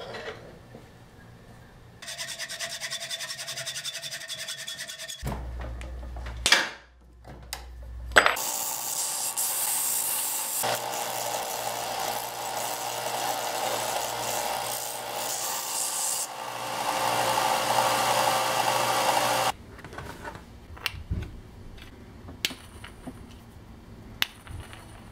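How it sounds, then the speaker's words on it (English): A length of threaded rod is cut to size with a sustained, close, rasping cutting noise that runs for several seconds and then stops, with clunks and handling sounds before and after. "I'm going to be using a piece of threaded rod for the clamp, so I'll just cut this to the right size."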